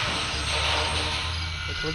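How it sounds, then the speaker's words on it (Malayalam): Steady whirring aircraft engine drone with a low rumble, continuous and fairly loud, as a video game helicopter powers up and takes off. "ഹെലികോപ്റ്റർ പൊങ്ങുന്നുണ്ട്."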